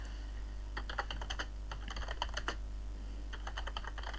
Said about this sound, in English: You're gonna be able to hear my keyboard